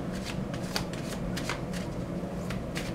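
Tarot cards shuffled steadily by hand to draw a card, a close, continuous papery riffle and slide with soft flicks throughout, no voices.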